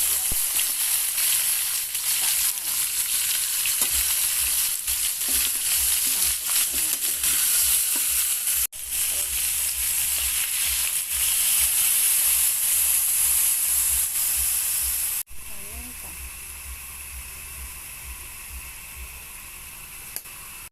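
Onion and garlic sizzle and fry in a pan for adobo sa gata, a steady loud hiss with faint stirring clatter, briefly cut and resuming at a lower, quieter level near the end.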